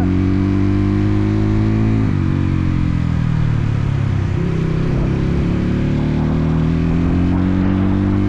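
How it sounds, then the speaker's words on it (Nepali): A motorcycle engine labours loudly while climbing an off-road mountain trail, pitch dropping and rising again as the rider works the throttle on a slippery uphill. "गाह्रो छ माथि बाइक चलाएर के गरेर होला।"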